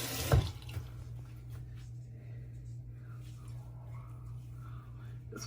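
Tap water running into a bathroom sink while wetting the face for skincare, a short splash near the start giving way to a steady, quiet flow.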